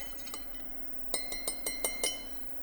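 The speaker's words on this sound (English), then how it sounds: "I'm going to go ahead and stir this together" A spoon stirs a holiday cocktail in a glass, giving a run of bright clinks against the glass, a few light taps first and then six or so quick, evenly spaced rings close by.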